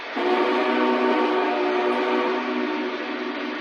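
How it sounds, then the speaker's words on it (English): A Lionel Big Boy model steam locomotive sounds its whistle in one sustained, loud, chord-like blast lasting a few seconds, heard alone. "Big Boy has been the reigning champion of every Whistle War we've ever done."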